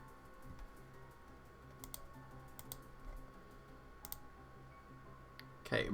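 A handful of scattered keyboard taps and mouse clicks sound softly during Pokémon VGC teambuilding at a computer, sparse and close, ending in a louder clattering burst.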